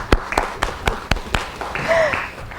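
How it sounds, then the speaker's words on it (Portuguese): Brief burst of audience applause for a speaker at a panel discussion on Mozambique and global trade, with sharp, spaced claps rather than a dense ovation, fairly close and fading within a few seconds. "Uma salva de palmas para a doutora Serina."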